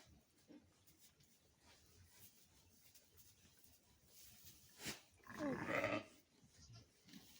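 A ewe on a farm at lambing time gives a calling bleat near the end. Faint background sounds lead up to a short sharp sound, then a louder, voiced bleat lasting about a second.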